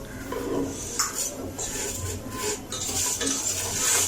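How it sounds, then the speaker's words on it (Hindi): Vermicelli (seviyan) fries gently over low heat while a spoon stirs and scrapes the pan. Soft sizzling sits under close, repeated metallic scraping, all fairly quiet. "अब इनको हल्की स्पीड पे हमने थोड़ा सा इनको फ्राई करना है।"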